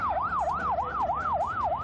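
An ambulance siren wails in a steady rising-and-falling pattern, loud and close, as ambulances arrive at a shooting scene on Timog Avenue, with road vehicle rumble beneath and no talking.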